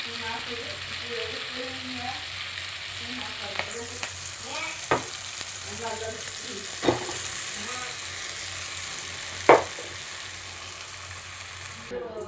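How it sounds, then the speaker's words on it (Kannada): Flattened rice (poha) with turmeric being stirred in a hot pan on the stove, a continuous sizzle with repeated scraping strokes of a spoon and a few sharper clanks, close by and without speech. "ಅರಿಶಿನ ಹಾಕೊಂಡಿದ್ದಾಯಿತು ಇವಾಗ ಅವಲಕ್ಕಿ ಮಿಕ್ಸ್ ಮಾಡ್ಕೊಡ್ತೀನಿ"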